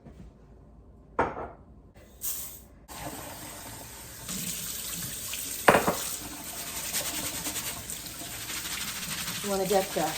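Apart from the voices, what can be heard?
tap water running while washing rice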